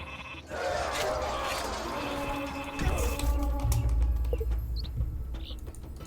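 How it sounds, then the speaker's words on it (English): Sheep bleating in the strategy video game Northgard, short bleats heard amid dense game ambience and effects, moderately loud with low rumbling sounds underneath. "And grab the sheep."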